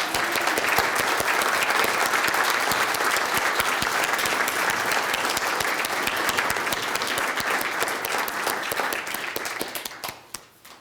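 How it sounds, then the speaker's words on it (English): Sustained applause from a graduation ceremony audience for the Nunavut Law Program class of 2021, dense clapping holding steady and loud for about ten seconds before tapering off at the end. "let's give them another big,"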